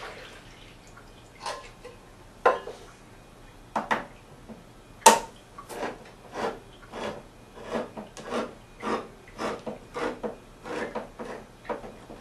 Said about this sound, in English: we're going to drain them in a colander over a smaller bowl so that we get all of the juices out